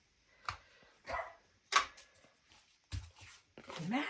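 A small dog barks indoors in a few short, sharp bursts spaced apart, fairly faint and close, with light handling noises between barks.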